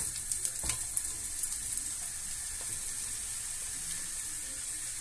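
Leeks frying in melted butter in a pan give a steady, faint sizzle with light crackles and a few soft stirring knocks, close by and without talk.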